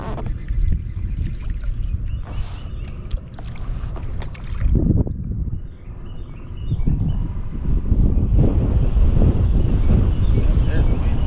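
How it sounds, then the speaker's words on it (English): Wind gusts across a lake around a bass fishing boat, a broad low roar that strengthens over the second half, with water splashing near the hull and a voice speaking briefly. "There's the wind."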